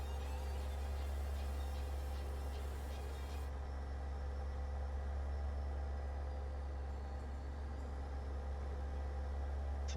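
A truck engine in a truck-driving simulator, recorded from a real truck on a dyno, roars loud and steady for the full stretch with a constant low rumble and a faint high whine.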